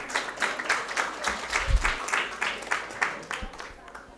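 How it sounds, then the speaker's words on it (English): Applause from a conference audience at a neuroscience and psychology event: a steady patter of many hands with a loose rhythmic pulse, moderately loud and continuous across the room, with no speech over it. "I request you to kindly give them a big round of applause."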